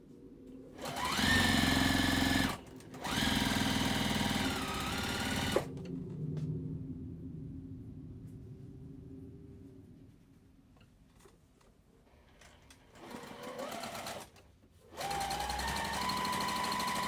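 A sewing machine stitching quilt block triangles for a Card Trick block, several bursts of fast whirring stitches separated by quiet pauses with faint handling noise.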